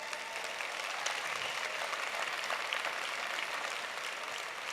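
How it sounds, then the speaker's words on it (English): An audience gives a round of applause for the team, steady dense clapping from a crowd throughout, without voices. "I want to start with giving a big round of applause for our team actually"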